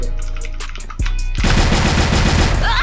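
M4A1 machine gun fire in a shooter video game, a few separate close shots followed by a rapid sustained automatic burst, loud and sharp with no talk over it.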